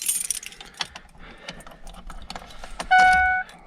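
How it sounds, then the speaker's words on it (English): Keys jangle in the ignition of a 2001 Ford F250 pickup with a 6.8L V10, a series of light metallic clinks, followed by a sharp, loud electronic chime or tone lasting about half a second near the end. "Okay, so keys in the ignition, on, start."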